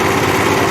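A Harbor Freight Predator engine drives a WoodMaxx DC1260 wood chipper with its drum turning, giving a loud, steady, close mechanical drone with no pauses.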